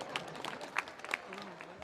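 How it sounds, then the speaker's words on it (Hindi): A few scattered hand claps ring out sparsely over a short stretch at a mass wedding in Pushkar, with a voice speaking underneath. "आप सबके लिए मैं तालियां बजाता हूँ"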